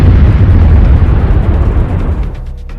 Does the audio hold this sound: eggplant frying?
no